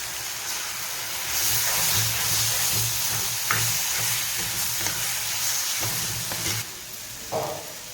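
Tomato sautéing in a pan with chili powder, garam masala and turmeric, a close, busy sizzle with scraping stirs and a few clicks of the spatula, easing off toward the end, with no talking.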